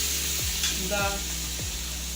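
Close-up sizzling of green chilies and other ingredients frying in a pan while making chicken shami kabab, with a few scraping stir sounds and a brief spoken word.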